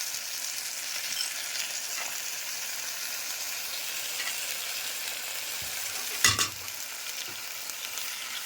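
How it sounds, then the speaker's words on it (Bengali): Soaked chickpeas go into a pan of frying taro greens: a constant bright sizzle, with soft scraping stirs and one sharp clatter of the spoon against the pan about two-thirds of the way through. "এর মধ্যেই আমি এখন কিছুটা ভিজিয়ে রাখা ছোলা দিয়ে দেব।"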